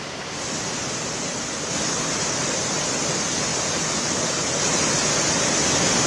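Floodwater rushing after a cloudburst near Dehradun in Uttarakhand, a loud, unbroken roar of churning torrent that swells slightly as it goes on, with no voices.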